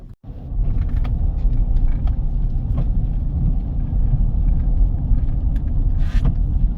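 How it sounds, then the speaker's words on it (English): A car drives along a countryside road on a rainy day in Western Appalachia, giving a steady low road rumble with tyre and wind noise that holds at an even level throughout. "Nothing like a ride through the countryside."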